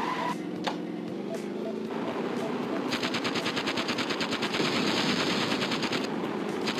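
Car-mounted gun firing in the vehicle combat game Interstate 76, a rapid steady stream of machine-gun shots starting a few seconds in over engine rumble and other game sounds, loud and continuous.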